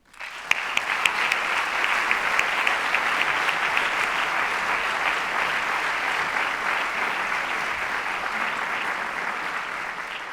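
Sustained, loud applause from an audience at an awards gala, steady dense clapping holding for about ten seconds with no voices.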